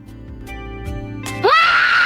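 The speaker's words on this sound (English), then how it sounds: "Can you yell as loud as possible to wake me up?" A synthetic AI VTuber voice breaks into a loud, sustained high-pitched yell that rises sharply and holds, following a brief stretch of tonal sound.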